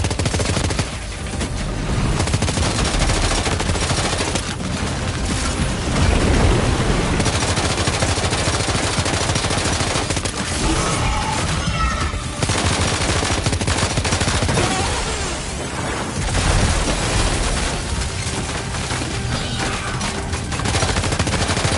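Sustained, dense gunfire in the video game Deep Strokes 2, with rapid overlapping automatic bursts filling the whole stretch at a steady, loud level and no talk over it.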